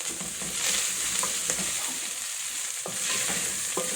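Minced beef stirred in a frying pot for a homemade beef stew, a steady hiss of sizzling with scraping and stirring clicks close by, with no talk.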